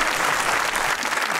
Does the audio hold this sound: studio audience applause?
yes